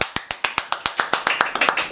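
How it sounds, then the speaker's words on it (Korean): A handful of people in a small indoor setting clap in a quick, regular rhythm, with sharp distinct claps that merge into a denser patter toward the end. "박수!"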